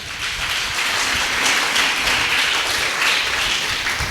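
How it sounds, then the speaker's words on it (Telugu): A church congregation clapping loudly together, dense continuous applause with sharp individual claps throughout, close and sustained with no speech over it. "ఒకసారి గట്టిగా చప്పట్లు కొడదాం"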